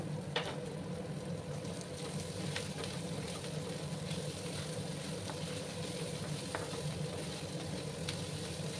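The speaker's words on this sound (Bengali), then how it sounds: "পেঁয়াজগুলোকে আরো কিছুক্ষণ আমি ভেজে নেব।" Onions fry in a pan with a low, even sizzle and bubbling, heard close and quietly throughout, with a few sharp little pops and no voices.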